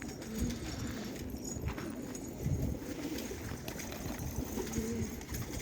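Flock of trained pigeons coo softly at a loft, low murmuring calls repeating under a steady noisy background, fairly faint and close.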